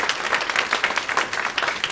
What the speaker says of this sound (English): So round of applause for Adil.